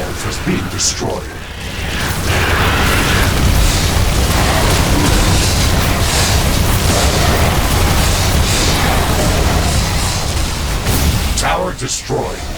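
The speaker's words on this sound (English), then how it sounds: "One of our walls is being destroyed." Loud, continuous explosions and booming bursts from The Riftbreaker as a base wall is destroyed during an attack by hostile creatures, forming a dense, rumbling barrage that dips briefly near the start and again at the end.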